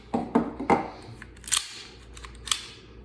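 A Smith and Wesson 5906 pistol being safety-checked: a series of crisp metallic clicks and clacks as the slide is worked, close-up, followed by a couple of sharper snaps, with no talking.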